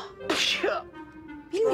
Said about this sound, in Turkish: Hayvanın lafı bile beni hapşırtmaya yetti.